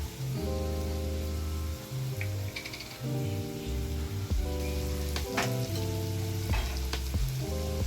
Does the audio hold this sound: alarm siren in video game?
no